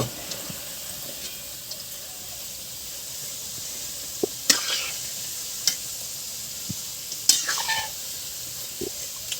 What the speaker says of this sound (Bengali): এরপর আমরা একটু নেড়ে দিচ্ছি আমাদের গদাগুলো ভাজা চলছে